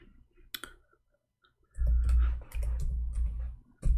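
Computer keyboard typing in English, a few isolated clicks followed by denser bursts of keystrokes over low rumble, fairly close and moderately loud.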